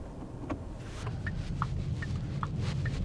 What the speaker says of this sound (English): that tick-tock sound you hear is probably one of the worst things I can say about this car